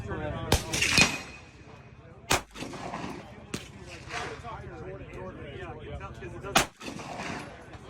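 Sharp pistol shots from an HK CC9 fired at a steel target 125 yards away, about five loud cracks spaced a second or more apart, each with a fading echo, while someone talks between them.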